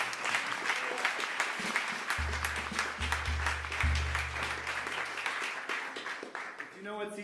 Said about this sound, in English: Can you give it a round of applause?